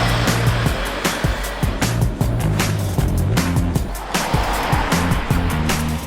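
A Hyundai i800 converted into a micro camper van drives along with a steady engine and road hum, tyre noise and repeated rumbling bumps, with no talk.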